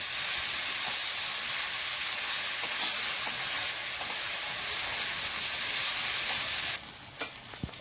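Onion with garlic and ginger paste frying in a pan, a loud, steady sizzle that runs continuously and then drops abruptly to a quieter hiss near the end, with no talking.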